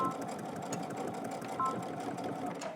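A sewing machine stitches a bar tack through pant fly pieces, a steady close mechanical whir with fine rapid needle ticks running throughout, no voices.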